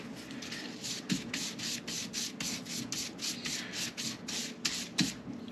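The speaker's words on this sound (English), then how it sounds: "with the fret crowning file, those are very, very fine. We're going to get these frets polished up and smooth" A coarse-grit fret crowning file polishes the frets of a concert ukulele in a steady run of rhythmic rubbing strokes, close and fairly quiet, with no talking.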